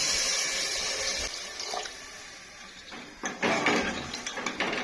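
In a Pakistani village home kitchen, water splashes and runs into a metal pot, with occasional clinks of cookware, close by and moderately loud.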